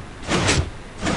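A door in the Minecraft video game slides open with a loud, close whoosh, then a second swish follows shortly after, with no voices over it.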